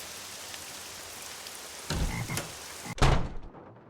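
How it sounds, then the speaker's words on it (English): A frog croaks in the Nancy Drew game Legend of the Crystal Skull, two low, throaty croaks over a soft steady rain-like ambience, the second louder and closer. "Oh, you hear that frog croaking?"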